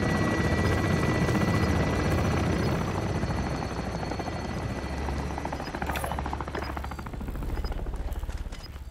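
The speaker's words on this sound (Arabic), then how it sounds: "والله حلوة الطيارة واشتريها مرة ثانية." A helicopter in Call of Duty: Modern Warfare thrums with loud, rapid rotor chopping close by, holding steady for about nine seconds with a brief flare of higher-pitched noise partway through.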